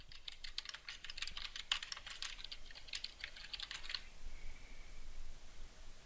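Rapid typing on a computer keyboard while entering a heading into an Excel spreadsheet, a steady run of close, crisp key clicks for about four seconds that stops abruptly, leaving only quiet room hiss.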